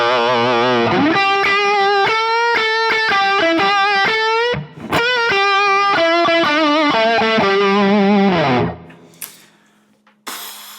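Electric guitar played through a Bludojai Lead amp with plate reverb, a run of distorted, sustained notes and chords picked in a steady rhythm, briefly pausing midway, then ending on a ringing chord that fades into a reverb tail and a small click.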